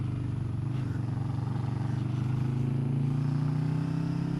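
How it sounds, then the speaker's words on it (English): A small cruiser motorcycle rides along a road, its engine a steady, fairly quiet drone that slowly climbs in pitch, with no talking. "I love this little cruiser. So much fun to ride."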